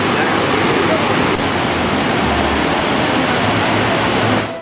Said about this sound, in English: We walked out into the midst of the falls.